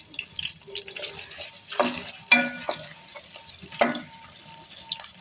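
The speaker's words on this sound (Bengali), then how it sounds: "আর আরেক সাইডে আমি মাছ ভাজার জন্য তেল দিয়ে দিয়েছিলাম, সেখানে আমি কই মাছটা ভেজে নিয়েছি" Koi fish frying in oil in a pan, with a steady crackling sizzle and a few louder spattering bursts and utensil clatters, no talking.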